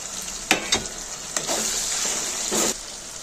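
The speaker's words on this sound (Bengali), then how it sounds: "পেঁয়াজটা নেড়ে চেড়ে ভেজে নেব।" Onion and tomato fry in a pan for chicken curry, a constant soft sizzle broken by a few brisk scraping strokes of a spatula stirring close by, with no talking.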